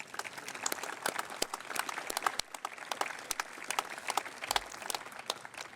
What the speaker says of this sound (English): Let's give a round of applause to our families and significant others.